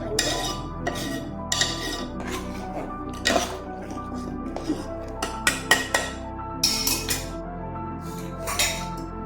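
Metal spoon stirring kheer made with a sugar mixture inside a pressure cooker pot, giving repeated scraping clinks and clanks against the metal at an uneven rhythm, close up, with faint background sounds.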